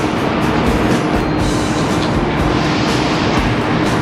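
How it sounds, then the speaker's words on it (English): A train at a station in Falkirk, Scotland, produces a loud, constant rumble and rail noise close by, a dense wash of sound without pause. "That is the train station."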